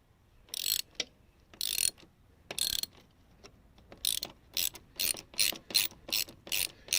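A ratchet wrench clicks in short bursts while bolts are undone on the engine of a 2023 Honda CB125F during a cam sprocket replacement, close and crisp, with quiet pauses between strokes and faster bursts toward the end.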